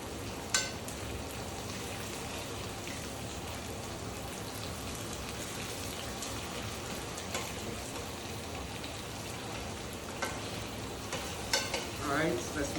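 Bourbon pecan chicken with brown sugar, pecans and butter simmers in a covered pan on lowered heat, a steady close sizzle and bubbling crackle throughout with a few faint clinks.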